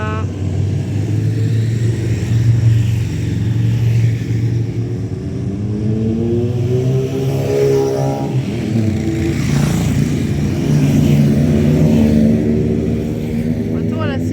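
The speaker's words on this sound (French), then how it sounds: "Retour à la civilisation avec le bruit, les motos." Motorcycles passing through a small French village, a continuous engine drone with rising and falling revs across the whole stretch, fairly close and steady, with a voice talking over it.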